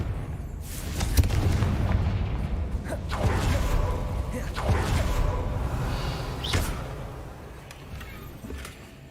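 Blasting spell explosions in Hogwarts Legacy, a handful of heavy booms and crashes close together with rumbling debris and creaking sounds between them, fading toward the end.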